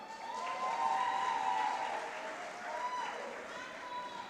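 Applause from an audience at the Siasa Place 10th anniversary event, welcoming honoree Nerima Wako, with steady clapping mixed with raised crowd voices and high cheering tones, moderately loud throughout.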